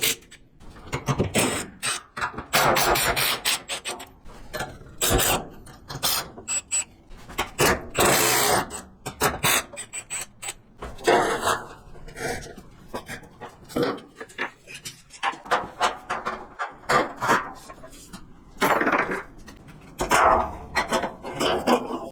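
Tie-down cables being undone from a shipped Nissan Silvia S15 Varietta: a busy run of metallic clanks, rattles, rasping and creaking scrapes in uneven bursts, close by and with no talking.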